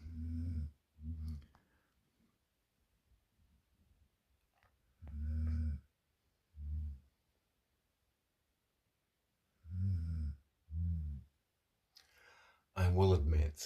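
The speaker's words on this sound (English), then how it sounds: "and he's snoring away." A dog curled up with a stuffed toy snores at night, with soft paired snores in a slow, regular rhythm separated by quiet pauses, close and fairly faint, ending in a louder rustling burst.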